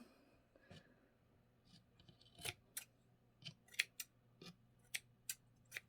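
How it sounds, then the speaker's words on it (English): Scissors snip through yarn loops on a decorative yarn piece, giving a series of sharp, quiet, close clicks at an irregular pace against near silence. "Just cutting the loops keeps it from being so poofy on the ends."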